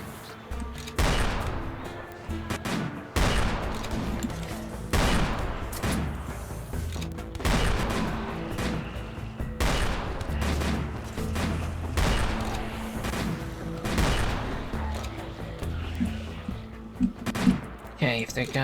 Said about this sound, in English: So some of them are shooting back.